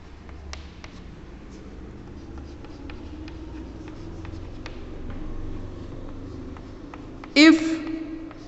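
Marker or chalk drawing on a board during a lecture on aeroplanes: a steady run of faint, evenly spaced taps and scratches, with a brief louder squeak near the end.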